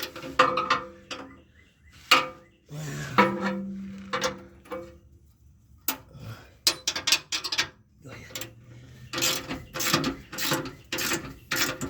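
Bolts being tightened under a 2010 Jeep Wrangler bumper, bursts of rapid ratcheting clicks separated by short pauses, close and fairly loud, with brief spoken words in between.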